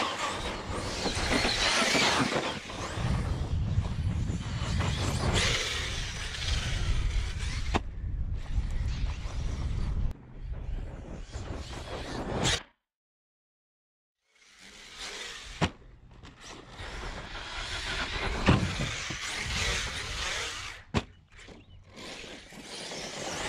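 An Arrma Outcast 6s RC truck with new hardened steel driveshaft cups and outdrives whines and rumbles as it drives hard outdoors, loud and continuous, cutting out for a couple of seconds before revving again.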